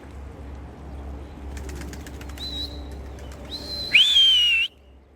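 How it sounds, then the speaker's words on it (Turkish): A sharp rising whistle sounds briefly near the end, following softer chirpy tones, over a low steady background rumble. "biliyorum ıslık olayına belki kızıyorsunuz ama konmamaları için mecburiyetten yapıyoruz bunu"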